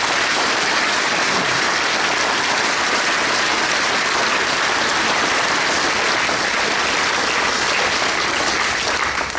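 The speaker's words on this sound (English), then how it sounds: "So give yourselves all a round of applause." A large audience gives loud, sustained applause at a groundbreaking ceremony speech, with dense steady clapping and no talking over it for the full length.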